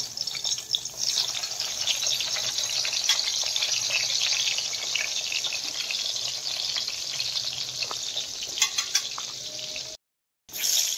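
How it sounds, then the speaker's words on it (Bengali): Eggplant frying in a pan sizzles steadily with bright crackles and occasional stirring clicks, cutting to a brief silence near the end before the hiss returns. "এখন করছি বেগুন ভাজা।"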